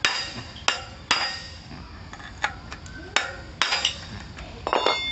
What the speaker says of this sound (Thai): ผมจะตอก